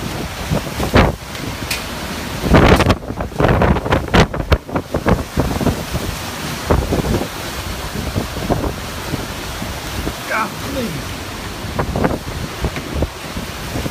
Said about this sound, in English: Hurricane, the eye is just southeast of me now.